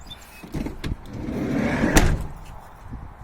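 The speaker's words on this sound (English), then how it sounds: "Okay, I'll shut the door and I'll show you." A sliding side door on a Dodge Caravan converted into a camper rolls along its track and shuts, with a rumbling slide, then a sharp latch thump fitting against the weather strip, followed by quieter small clicks.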